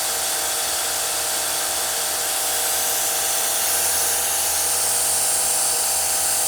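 A Kranzle K1122 pressure washer runs steadily, giving a constant high hiss with an even motor whine and no pauses.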